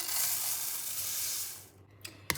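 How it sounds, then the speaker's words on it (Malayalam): Flattened rice (aval) roasting in a hot pan over medium flame, a steady bright sizzle and hiss that fades out, followed by a couple of light clinks. "പാൻ ഒന്ന് ചൂടായി വരുമ്പോൾ 1 കപ്പ് അവൽ നമുക്കൊന്ന് വറുത്തെടുക്കാം."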